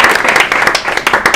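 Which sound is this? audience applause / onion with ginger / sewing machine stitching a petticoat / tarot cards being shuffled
audience applause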